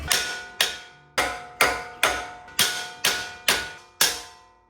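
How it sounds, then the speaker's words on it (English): Nine sharp, ringing metal hammer strikes on the suspension of a 2025 Toyota Land Cruiser, knocking loose the upper control arm, each blow clanging loudly and decaying before the next. "what you're gonna do is hammer it, and this upper control arm is gonna shoot up"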